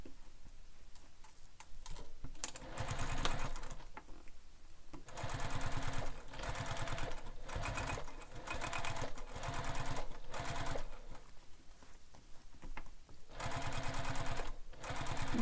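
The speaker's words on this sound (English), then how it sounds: "then we're going to top stitch this" Sewing machine top stitching a bulky handbag panel, running in several steady bursts of rapid ticking stitches with short pauses between, close and fairly loud, with no talk.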